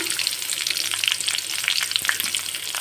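Cinnamon, cloves, cardamom, bay leaves, and green and dried chillies fry in hot oil for a potato gravy, making a dense, continuous crackling sizzle that is close and loud.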